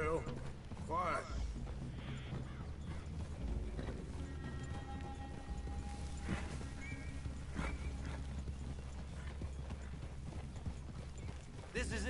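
Horses in a video game clip-clop along with steady hooves and an occasional whinny, while voices talk over the movement throughout.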